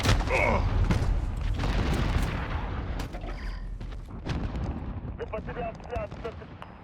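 A cruise missile strike in Call of Duty Modern Warfare multiplayer, with heavy rumbling explosions and scattered gunfire blending into a dense battle din, loud at first and then easing, while game voice announcements sound over it.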